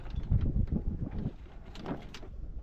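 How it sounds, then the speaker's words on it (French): Mainsail of a sailboat eased out and head to wind, flapping on the open sea during a transatlantic crossing; rough, gusty rustling and snapping with wind buffeting the microphone, loudest early and then steadier. "Et puis la grande voile débordée, elle est face au vent, mais bon, elle claque."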